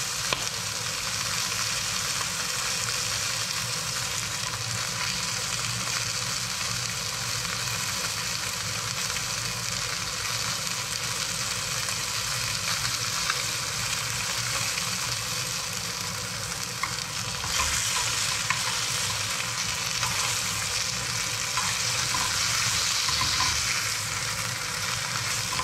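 Fish slices standing on edge in a pan so the skin crisps, giving a continuous even sizzle that holds steady throughout, close-up with no voices.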